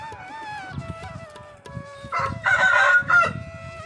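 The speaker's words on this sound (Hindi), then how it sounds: "ये देखिए पहाड़ी मुर्गियाँ।" Hill chickens cluck and a rooster crows nearby beside a roadside shop in the hills, with a louder, harsher burst of calls midway, set over faint low background rumble.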